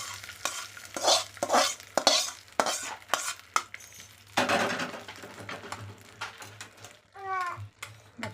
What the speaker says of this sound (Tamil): இந்த தாளிப்பு சேர்த்துருந்தோம்.